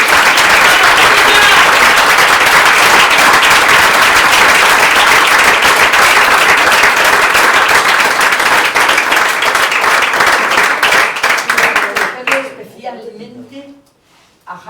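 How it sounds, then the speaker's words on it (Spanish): Loud, sustained applause from an audience at a book presentation, dense clapping that holds steady for about twelve seconds before quickly tapering off into a few scattered claps and quiet. "quiero un aplauso muy fuerte para Kurdo"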